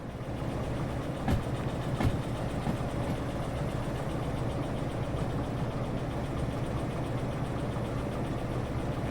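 Small locomotive running in the train game Derail Valley, a steady, loud engine drone and rumble with faint rail clanks, continuous and close, no voices.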